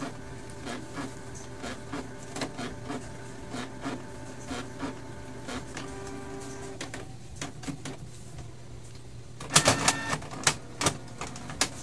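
Canon MP237 inkjet printer running its automatic cleaning cycle, giving a series of close mechanical clicks and ticks with a steady hum underneath, ending in a louder burst of rattling clatter near the close.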